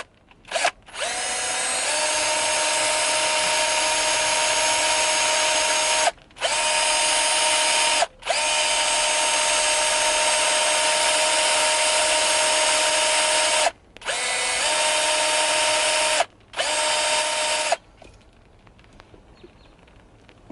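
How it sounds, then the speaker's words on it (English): Power drill with a drill bit boring into a Miata steering wheel part, a loud whining motor run in several bursts with brief stops between them, close to the microphone. "I got the drill bit that's going to work"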